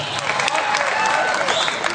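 Audience applause fills a hall during an amateur singing competition in Godhra, a dense, steady wash of clapping with some crowd noise and voices mixed in, lasting about two seconds.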